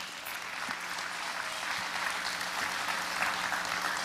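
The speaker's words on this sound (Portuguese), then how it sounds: "aplauda o nome do Senhor" A church congregation breaks into applause during a sermon, a steady, dense wash of clapping from a large indoor crowd that continues evenly without letting up.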